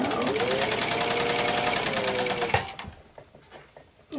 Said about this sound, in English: I'm sewing the handle